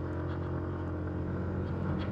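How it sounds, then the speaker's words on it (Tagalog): A Yamaha NMAX Turbo scooter climbs steadily uphill on Kennon Road near Baguio, its engine a constant close drone under rushing wind noise, with no speech. "ang sarap talaga gamitin tong NMAX Turbo dito"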